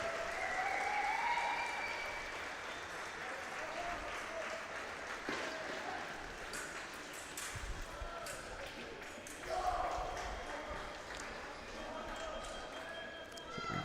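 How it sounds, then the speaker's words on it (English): Crowd at a fencing competition, the 27th Flemish Open, cheering and clapping in a large hall, a sustained roar with scattered whistles and shouts that swells again midway, voices mixed in. "Crowd roars."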